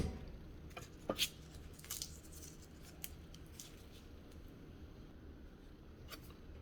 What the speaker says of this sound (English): So I'm going to cut all my citrus, prep my garlic